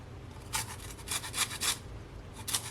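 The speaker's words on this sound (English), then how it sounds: "I'm gonna grate a lime zest" Lime zest grated on a hand grater for a Jamaican Easter spice bun, heard as short bursts of close raspy scraping in two loose groups, quiet between strokes.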